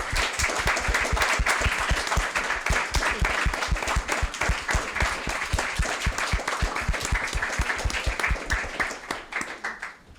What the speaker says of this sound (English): I also would like you to join me in a round of applause for my producers, Taylor Lynn and Franklin Eugene.